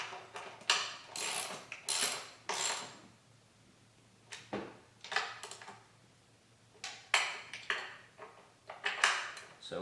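Metallic clicks and ratcheting of a wrench tightening throttle body spacer bolts on a car come in short bursts with brief pauses, close and fairly clear.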